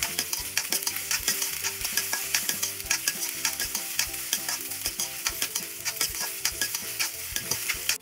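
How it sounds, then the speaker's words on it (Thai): Sausages stir-fried in a wok for a Thai basil stir-fry give a dense, steady sizzle, loud and close, broken by frequent quick scrapes and clanks of the spatula against the pan. "ใส่ไส้กรอบลงในกระทะได้เลยผัดคลุกเคล้า"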